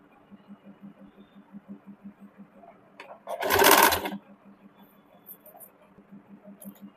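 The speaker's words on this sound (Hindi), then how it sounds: "इसी प्रकार से दूसरे वाले स्लीव का भी 1/2 इंच पे सिलाई कर लेंगे।" A sewing machine stitches two fabric sleeve pieces together with a half-inch seam, its rapid, even needle chatter running softly throughout, interrupted once by a short loud burst of fabric rustle or handling noise near the middle.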